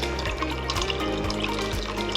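Turkey stock pours through a mesh container in a continuous splashing, gurgling rush of liquid, close and steady throughout.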